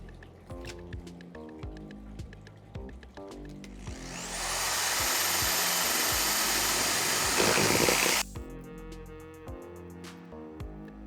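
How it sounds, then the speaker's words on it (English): A power drill boring holes in a plastic cement mixing tub gives a loud, steady high-pitched whine for about four seconds, with quieter music-like tones and knocks before and after. "let's start drilling the holes"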